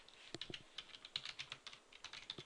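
Rapid keystrokes on a computer keyboard as C programming code is typed, a quiet, close and uneven clatter of clicks with no talking.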